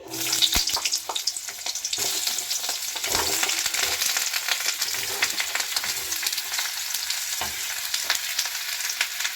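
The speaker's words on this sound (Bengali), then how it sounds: "ওই একই কড়াইয়ে কেটে রাখা কুমড়োগুলো দিয়ে দিচ্ছি।" Chopped pumpkin hits hot oil in a wok already used to fry onions, bursting into a loud, steady sizzle with crackles and stirring scrapes throughout, close up and with no talking.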